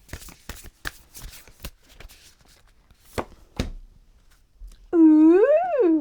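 Tarot cards are shuffled in a quick series of crisp riffles and slaps, close and alone, followed by a loud wavering electronic tone near the end.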